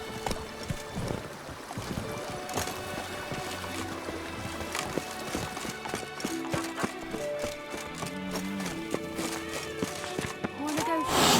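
A horse gallops in The Witcher 3: Wild Hunt, with steady, rapid hoofbeats running throughout under game music and voices, growing a little louder toward the end.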